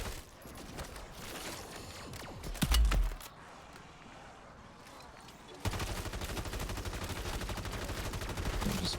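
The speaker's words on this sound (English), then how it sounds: "I'm just gonna keep shooting till we're done here." Sustained automatic gunfire rattles in Modern Warfare Zombies, a heavy burst and impact early, a short quieter lull, then continuous rapid loud shooting to the end.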